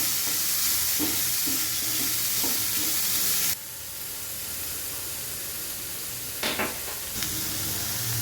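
Onions sauté in a pan with salt, giving a close, loud, hissing sizzle punctuated by stirring scrapes. The sizzle drops noticeably in level partway through, with a couple of clatters later.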